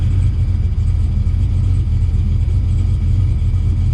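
A Chevrolet Camaro ZL1 with a newly fitted fuel pump idles in a deep, steady rumble, close and continuous as it is shifted into drive.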